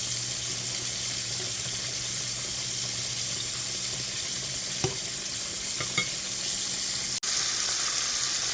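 Food fries in a pan with a steady, moderate sizzle and a few clinks of utensils, with no talking.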